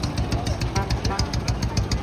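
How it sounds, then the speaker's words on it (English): The Disneyland Main Street fire engine, a vintage-style vehicle designed by Bob Gurr, runs nearby with a steady, chugging, rhythmic idle pulsing several times a second amid crowd noise. "Fire engine."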